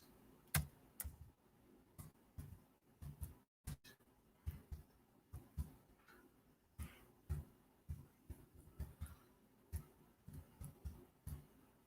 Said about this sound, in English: Let me type that into the chat.